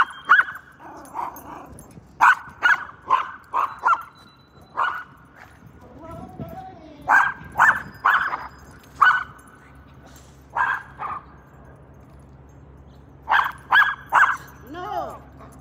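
A leashed dog on a morning outdoor walk barks repeatedly in short bursts of sharp yips, loud and close, with brief pauses between clusters and someone speaking in the background.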